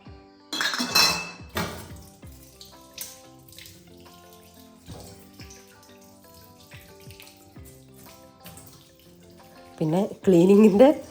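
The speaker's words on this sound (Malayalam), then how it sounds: "പിന്നെ ക്ലീനിങ്ങിൻ്റെ ഏറ്റവും വലിയൊരു കാര്യമാണ് ആകുന്ന പാത്രങ്ങൾ കഴുകി വെക്കാം" Dishes and pots are washed in a kitchen sink, with clattering metal utensils and cutlery clinking in bursts and running water from the tap, and some voice or music faintly underneath.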